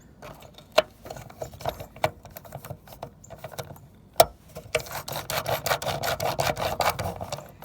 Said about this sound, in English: And then you just put the screw back in.